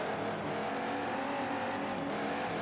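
Diesel monster truck racing in a stadium in Anaheim, California, a loud continuous roaring engine drone held at steady high revs throughout, no talk.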